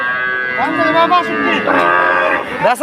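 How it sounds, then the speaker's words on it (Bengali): A milk cow moos loudly and close by at the Chaumuhani cattle market in Brahmanbaria, giving a long, wavering bellow that rises and falls, with faint market voices behind it. "এই যে একটা সুন্দর একটা গাভী গরু"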